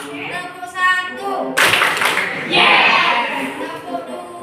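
A classroom of children claps together on a teacher's count, a burst of hand claps landing after a short spoken call, loud and close with voices before and around it.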